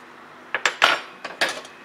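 A metal fork lightly pricks and taps phyllo pastry laid over a cream filling, giving a handful of short, close clinks in two small bursts with quiet gaps between.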